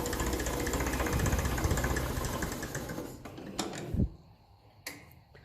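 A 1954 Ferguson 20 TEF diesel tractor engine runs at a steady, even idle, fairly quiet and close, then its rumble drops away, leaving a few faint knocks and clicks.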